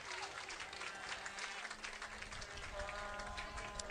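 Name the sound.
stadium crowd applause at soccer match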